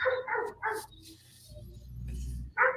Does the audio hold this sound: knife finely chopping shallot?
no